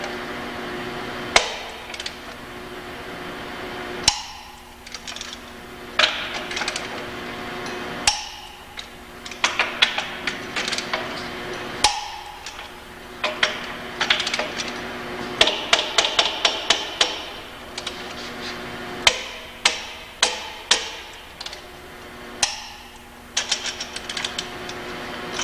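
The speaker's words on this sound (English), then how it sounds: "Using the same crisscross pattern." A torque wrench tightens lug nuts on a cast spoke wheel in a crisscross pattern, giving sharp metallic clicks in short clustered bursts separated by brief pauses, close and distinct with no talking.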